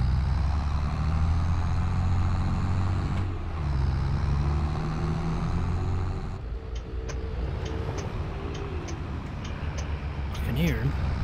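Road vehicle approaching in Farming Simulator 22, a continuous engine drone and rumble with a low mechanical tone that shifts partway through, under a voice talking, with short clicking sounds later.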